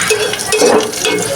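Mace, cashews and raisins sizzle loudly in a pan of hot oil, a dense near crackle with a few light stirring clatters and no speech.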